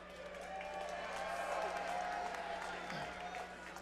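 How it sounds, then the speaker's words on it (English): A fight-night crowd in an arena applauds the ring girl with a broad, steady wash of clapping and cheering, distant and fairly faint, with a murmur of voices and a sustained tone underneath. "How about a round of applause for our beautiful ring girl?"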